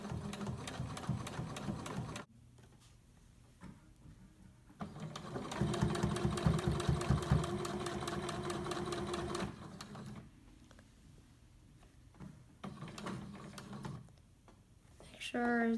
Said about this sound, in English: and start sewing it.